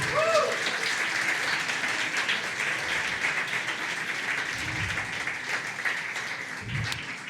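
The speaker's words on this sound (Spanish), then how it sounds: "Den un aplauso al Señor" A church congregation claps together in praise during a worship service, giving sustained, even applause that fills the room from start to finish, with occasional low thumps beneath the clapping.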